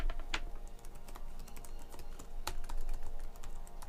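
Fingers type on a computer keyboard at a close distance, producing steady clusters of light key clicks with a few sharper, louder strokes, and no voices over them.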